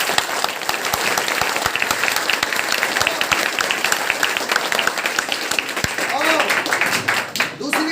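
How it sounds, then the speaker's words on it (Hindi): Enthusiastic applause from a gathered audience of students and teachers at a coaching-class ceremony for top-scoring Class 10 students, with dense clapping throughout and voices mixed in underneath. "मैं चाहूँगा एक बार उस तमाम छात्रों के लिए जोरदार ताली"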